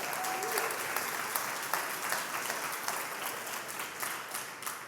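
A church crowd applauds steadily throughout, dense clapping at a constant level with a few louder individual claps standing out.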